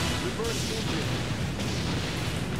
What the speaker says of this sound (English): Eventually they'll die from me shooting at them with cannons for 4 minutes.